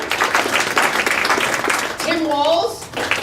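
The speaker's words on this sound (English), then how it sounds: "Big round of applause for Wright" An audience at a Minnesota election candidates' forum claps in a rough burst of applause, mixed with a voice talking over it.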